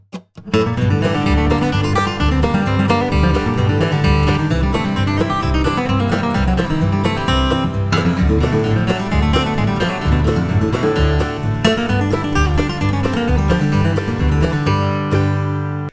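Bluegrass licks built on the major/minor blues scale, played up to tempo over a full backing track; dense, loud and continuous for about sixteen seconds, with no talking.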